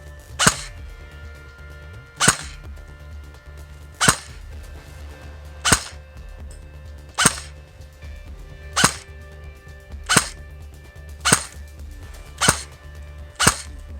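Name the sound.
E&L AK 102 airsoft rifle firing 0.20 g BBs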